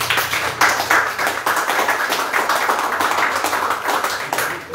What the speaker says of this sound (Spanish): ¿Quién le puede dar un aplauso al Señor?